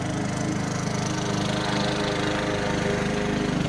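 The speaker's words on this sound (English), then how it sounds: "I know, that loud lawnmower." A loud lawn mower engine drones continuously nearby, with a rough, buzzing rumble and no pauses.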